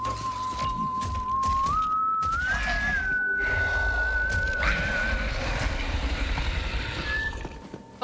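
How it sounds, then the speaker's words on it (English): A lone whistled tune from the Borderlands 3 Bounty of Blood western-themed game, a steady clear melody rising in pitch and held over a low rumbling ambient background, fading out near the end. "Someone was whistling."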